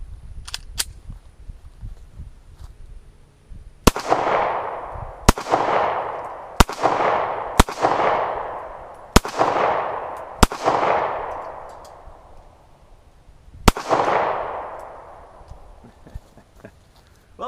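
Seven loud handgun shots from a Taurus Slim pistol fired at targets, spaced irregularly over several seconds, each crack followed by a long ringing echo tail.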